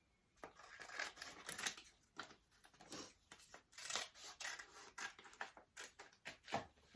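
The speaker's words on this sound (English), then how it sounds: "Let me cut it out." Scissors snip around a decorative transfer close by, a quiet run of irregular short crisp cuts and rustles of paper with soft pauses between them and no talking.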